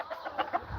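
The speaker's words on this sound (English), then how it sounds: "That's the black rooster I gave to Papa." A black rooster gives a few soft, quick clucks, close but faint, over a brief moment.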